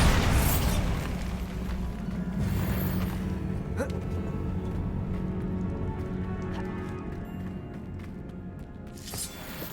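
The Bombarda blasting spell in Hogwarts Legacy sets off a loud, close explosion with a heavy rumbling boom that slowly decays, and a second burst comes near the end.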